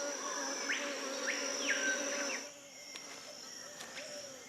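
Wasps at a nest in French Guiana, agitated and moving jerkily in alarm, make a dense close buzzing and whining drone that thins out partway through.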